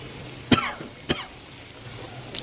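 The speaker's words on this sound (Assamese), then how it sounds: "এয়া কাহ হৈ গৈছে" Two sharp coughs close by about half a second apart in a village kitchen while spices for a papad curry are being prepared, followed by a faint throat noise, with no talk.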